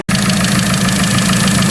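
A car engine idles with brake fluid mixed into its motor oil, a steady, loud mid-pitched rumble with a faint knocking tick that runs unbroken after a brief silent start.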